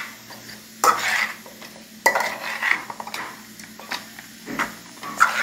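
Food cooks in a pan and is stirred, with utensils scraping and clinking against the pan in intermittent strokes over a faint sizzle, close and moderately loud.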